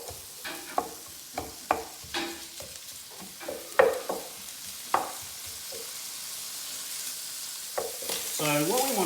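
Chopped bacon and onion frying in a pan for nasi goreng, a steady close sizzle broken by sharp scrapes and knocks of stirring, with a louder hiss building toward the end.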